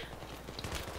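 Gunfire in Battlefield 3 on the Seine Crossing map, a dense run of automatic shots over one second with rumbling low thuds and faint game noise in the background.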